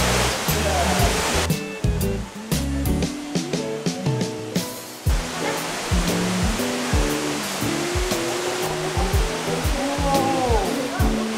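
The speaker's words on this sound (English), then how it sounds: "The golden waterfall." Water pours steadily down the golden waterfall inside Gwangmyeong Cave, a broad continuous rush echoing in the cavern, with people talking over it throughout.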